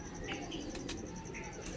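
A prized pet pigeon coos softly in short low phrases under a steady background hum, with someone talking nearby.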